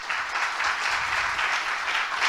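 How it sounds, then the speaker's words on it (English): An audience at a business forum applauds the Auscham team with steady, dense clapping that stays evenly loud from start to finish, with no talk over it. "A round of applause"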